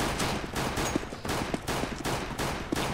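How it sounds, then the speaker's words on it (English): Rapid bursts of video-game gunfire fired into the air, dense overlapping shots repeating steadily for several seconds, loud and close with no talk. "Here, Max, you do shoot in the air."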